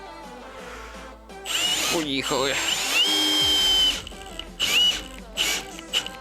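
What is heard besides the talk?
cordless impact drill driving screw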